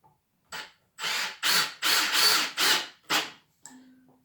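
A Milwaukee M18 brushless drill/driver driving square-drive screws runs in a series of about seven loud, close bursts, each lasting roughly half a second with short pauses between them, then a fainter tail as it winds down.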